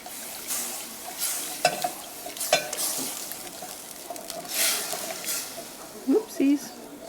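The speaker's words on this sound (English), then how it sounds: "Deglaze that pan a little bit. Do a little bit at a time to deglaze the pan." Liquid poured into a hot pan to deglaze it while making shepherd's pie soup, with sizzling, a spoon stirring and scraping, and a few clanks of utensils, close and fairly loud with pauses between bursts.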